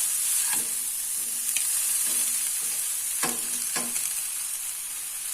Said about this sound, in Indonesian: Udangnya ditumis dulu ya, kasih bumbuin, tumis dulu biar buang amis, biar nggak amis